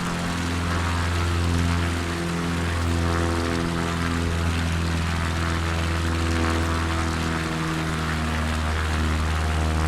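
A propeller plane climbing and manoeuvring at around 1,000 feet in MS Flight Simulator 2024, its engine droning loud and steady with a constant propeller hum and no talking.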